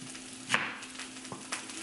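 Onions sauté quietly in a pan, a faint sizzle with a few soft stirring scrapes and clicks, heard alone and close.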